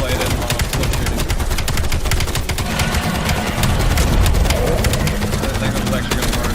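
Rapid automatic gunfire in the video game Call of Duty Black Ops 7, dense bursts of shots running continuously and loud throughout, with someone talking over the firing.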